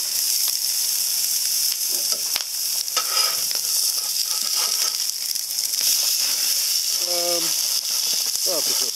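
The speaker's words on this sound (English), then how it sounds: "let's see what's going on with the burgers now. I think we're getting close to being able to flip them." Burgers sizzle on a cheap, small portable grill outdoors, a steady bright hiss running the whole time with brief crackles and a short whistling tone near the end; no talk over it.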